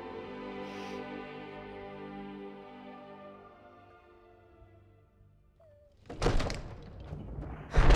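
A wooden door being opened in the fantasy game Skyrim: a low thunk and scraping clatter arrives near the end after a long quiet stretch of droning ambient game music.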